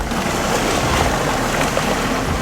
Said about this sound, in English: these waves going crazy